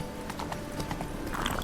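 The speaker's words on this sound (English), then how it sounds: "Whoa there, Roach." Hooves of a horse in The Witcher 3 clip-clop rapidly at a gallop over steady game ambience, with a brief neigh.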